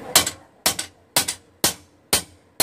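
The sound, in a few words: light hammer blows planishing a steel gladius blade on an anvil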